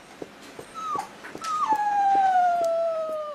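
A sick dog whimpers and howls, starting with brief faint yelps, then a long, sustained, descending whining howl up close, with clicking sounds in the background.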